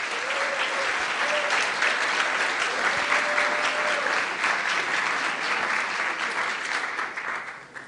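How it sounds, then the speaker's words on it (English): Sustained audience applause fills the whole stretch at a robotics contest introduction, a dense, steady wash of many hands clapping that fades slightly toward the end, with no talk over it. "Can we have a big round of applause for our sponsors?"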